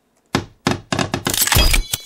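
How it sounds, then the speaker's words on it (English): Thuds and knocks of logs being stacked and struck while building a campfire in the survival video game The Forest, five or six loud, close impacts in an uneven rhythm ending in a brighter crackling burst, with no talking. "I'm going to get this fire built quick because here they come."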